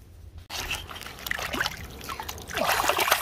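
Water splashes and trickles close by as an agate rock is swished and rinsed in a river, with irregular sloshing bursts growing busier toward the end.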